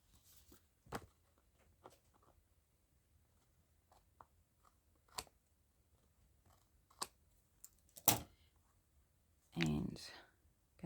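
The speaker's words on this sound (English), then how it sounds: "I'm just going to trim off those" Scissors trim misaligned paper edges on a layered craft journal page, giving a quiet run of scattered snips and clicks, with a few louder rustling bursts near the end.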